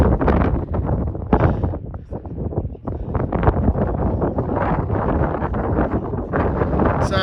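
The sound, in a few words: wind blowing outdoors on a hill walk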